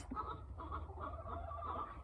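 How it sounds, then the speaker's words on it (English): Chickens cluck and murmur softly in the background at an outdoor mural painting site, a steady low fowl chatter with no clear voice over it. "I got some protesting chickens next to me as well."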